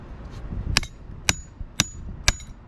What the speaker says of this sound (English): we're gonna hammer it down